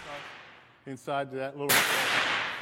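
A single loud, close gunshot at an outdoor shooting range cracks and then rings out in a long decay, preceded by a brief tonal, voice-like sound.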